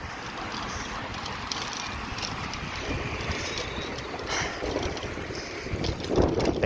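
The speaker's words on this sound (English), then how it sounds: "Ooh, that was the wind." Wind blowing outdoors in Montréal, a steady broadband rush against the microphone that swells into a stronger gust near the end.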